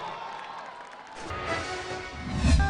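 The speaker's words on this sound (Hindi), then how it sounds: "वंस अगेन जोरदार तालियों के साथ।" Crowd applause and cheering for wrestling gold medalist Om Prakash at the KD Jadhav Memorial International Kushti Championship in New Delhi, a continuous clapping wash with shouts, growing louder near the end with a voice briefly audible.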